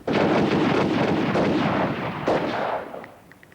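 Gunfire from a timed close-quarter shooting exercise by a Welsh team, heard as a loud, continuous dense burst of shots and blasts that fades out toward the end.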